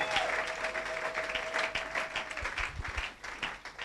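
A church congregation claps in sustained, steady applause for the word of the Lord, a dense wash of hands filling the room at moderate volume with a faint tone underneath.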